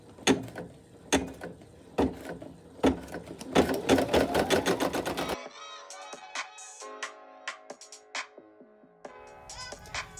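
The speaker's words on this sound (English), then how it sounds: "I am going to lower my presser foot, and I'm going to let the machine stitch out" A home embroidery machine stitches out the tack-down stitch on a double-layer glitter appliqué patch, giving a fast, steady mechanical chatter of needle strokes that changes pace partway through, with no voices.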